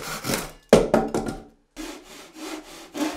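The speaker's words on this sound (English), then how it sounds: "this saw cuts as I pull it toward me, which I believe gives me a lot more control" Pull saw cutting through a faux wood beam, giving a series of close, scratchy rasping strokes in two bursts separated by a short pause, heard alone.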